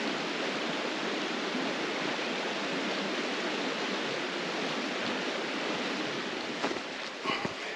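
A creek flows steadily beside a trail shelter on a backpacking route, a constant broadband rush of water with no voices, a few faint knocks near the end.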